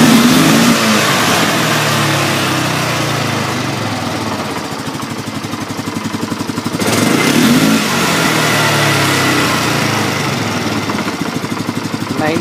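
A 2006 Polaris Sportsman X2 500 H.O. ATV engine, its fuel pressure regulator bypassed, revs up loud and close, holding a steady throttle roar with a short dip and rise midway.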